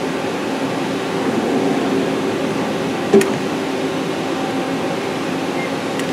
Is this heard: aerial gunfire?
no